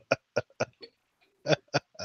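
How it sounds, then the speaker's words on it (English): A loud series of short, voiced bursts, about seven in two seconds, each a brief guttural eruption with a pause between, sounding like a burp or belch, with no talk. "Oh, we gotta hear the burp. Where's the burp?"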